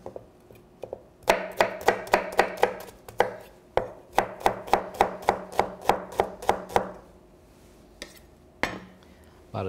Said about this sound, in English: So we're just going to cut that real quick.